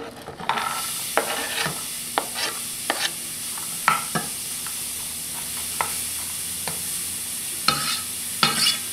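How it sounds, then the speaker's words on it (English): A medium onion hits a hot pan over medium heat for a beef tongue stir fry, raising a constant sizzling hiss broken by sharp spatula clicks and scrapes as it is stirred. "I'm going to take my medium onion and I'm going to add it"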